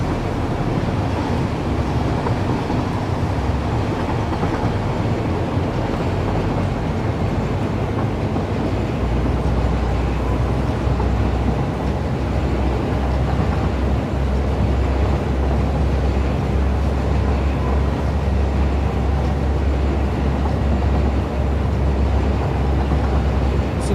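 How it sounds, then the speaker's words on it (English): A train in the video game Satisfactory slowly climbs a hill, heard as a continuous loud rumbling rail roar with deep low-end drone and no speech. "Sitting in the back of the train watching it go up a hill like that is like watching a caterpillar walk."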